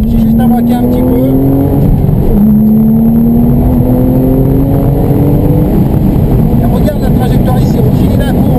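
A car engine drones loudly on light throttle through a curve, its pitch rising slowly and steadily, then dipping and climbing again, with wind noise and someone talking over it.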